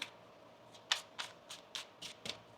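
A deck of tarot cards being shuffled by hand, with a series of crisp riffling bursts repeating roughly every quarter second, close and clear without talk.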